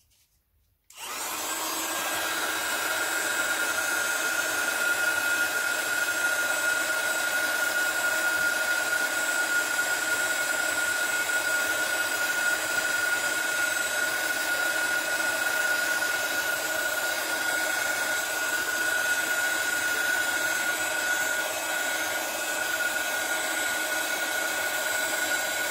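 A heat tool switches on and blows hot air over handmade craft flowers, a steady, loud, close whooshing drone with a constant whine, running unbroken after a brief silence at the start.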